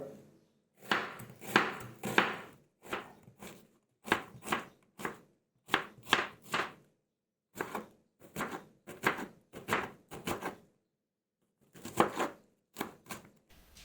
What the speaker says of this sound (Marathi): त्याच पद्धतीनं आपण कांदा सुद्धा बारीक बारीक चिरून घेणार आहोत